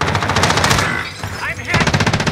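Rapid automatic gunfire in the video game Call of Duty: Modern Warfare, loud close bursts of repeated shots, a brief pause, then another burst, with a voice briefly under the shooting.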